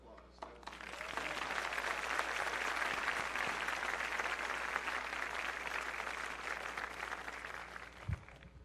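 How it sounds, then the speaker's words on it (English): Sustained applause fills a school commencement ceremony, steady and dense from a large crowd for about eight seconds, heard at moderate distance before fading near the end. "Another round of applause."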